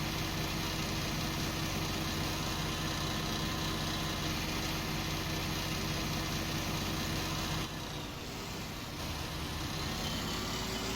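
A tractor engine runs in the Farming Simulator 19 video game, a steady loud mechanical drone that dips and shifts briefly near the end. No one talks.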